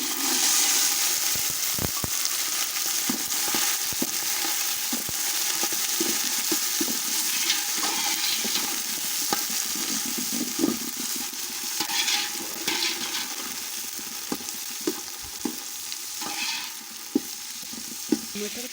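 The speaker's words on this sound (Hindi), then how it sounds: "मटर को भी हम 1 मिनट तक भूनेंगे" Frozen peas fry with dark browned onions in a pan for matar pulao, giving a continuous soft sizzle broken by scattered clicks and scrapes from stirring.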